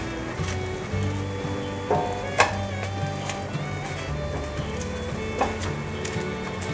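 Sheets of tofu skin pan-fry until golden in a vegan home kitchen. A steady, close sizzle with scattered crackles and pops runs throughout, beneath soft background music.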